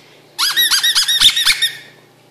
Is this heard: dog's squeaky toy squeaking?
yes